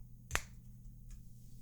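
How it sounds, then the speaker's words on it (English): A single sharp hand clap used to sync audio in a quiet room, one crisp close snap near the start followed by a faint echo-like tap, over a low steady hum. "this clap here that I use to sync up my audio"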